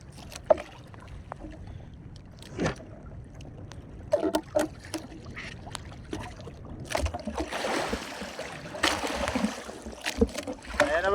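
Water sloshing and splashing against a small boat out at sea in bad weather, irregular knocks and slaps, with wind noise and the hull creaking, growing busier toward the end.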